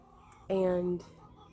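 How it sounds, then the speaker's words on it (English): A chicken in a garden gives a single drawn-out, tonal call lasting about half a second, standing out clearly against a quiet outdoor background. "You can probably hear the chickens doing their chicken thing in the background"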